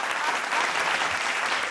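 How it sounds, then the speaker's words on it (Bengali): Loud, steady audience applause on a Bengali family television show stage, a dense continuous wash of clapping that holds evenly throughout with no voices on top. "হাততালি জোরে একটা"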